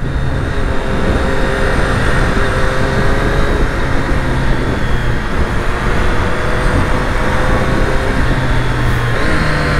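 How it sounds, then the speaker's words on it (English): A 2020 Triumph Street Triple RS three-cylinder engine pulling steadily while riding, loud and close with a continuous droning growl, rising and settling pitch through gear changes, and wind rush underneath. "that triple soundtrack."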